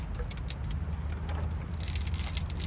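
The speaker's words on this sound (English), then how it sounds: "But what you're hearing is porcelain." Porcelain spark plug wire boots, made for use with headers, clink lightly as they are handled, giving a scatter of small, close, bright ticks and clatters over a steady low background hum, with no talking.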